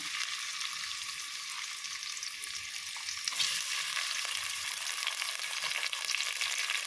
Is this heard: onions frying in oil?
yes